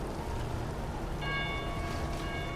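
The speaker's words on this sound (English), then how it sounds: "this ringing of this bell is somewhere between defiance and a death knell" A church bell rings out amid collapsing buildings under burning skies, its bright, sustained tones rising over a dense, rain-like wash of background noise.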